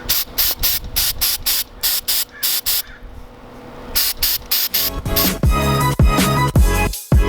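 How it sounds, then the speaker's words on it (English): MAF cleaner sprayed onto the removed mass airflow sensor of a Nissan G35: a rapid series of short, loud hissing bursts with brief gaps, then a longer continuous spray and some clicking and handling noises at the end. "we're gonna go ahead and spray some MAF cleaner on this."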